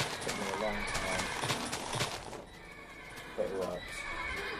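A horse in the Minecraft video game whinnies loudly twice, with clip-clop hoofbeats running underneath and a voice talking over the sounds.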